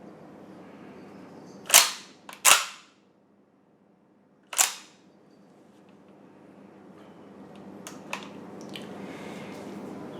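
Stiff straight-pull bolt of an Austrian Steyr-Mannlicher M95 rifle being worked, giving three sharp metallic clacks, two close together and then one more after a pause, followed by faint handling noise.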